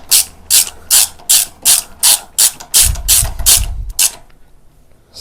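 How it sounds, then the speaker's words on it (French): A hand ratchet with a 10 mm socket clicks through about a dozen quick, close bursts on a motorcycle, with a brief rattle partway through before it stops. "petit cliquet douille de 10"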